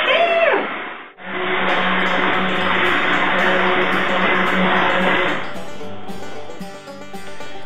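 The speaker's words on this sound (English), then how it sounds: "I'm using a hand blender, but feel free to use regular counter blender as well." A hand blender purees butternut squash soup, whirring steadily for several seconds after a brief pause, its motor drone loud and close, then cuts out, leaving fainter background clatter.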